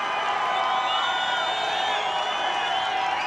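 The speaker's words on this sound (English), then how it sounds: "listen to this crowd, as Julian O'Neill has the opportunity to put the Reds in front" A stadium crowd in Perth roars at a 1996 rugby league match between the Western Reds and Manly Sea Eagles. The broad, continuous cheering sits under a commentator's voice as a kick approaches.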